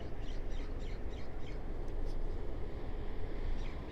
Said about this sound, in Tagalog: Maraming ibon na marinig ka na nag-aawit.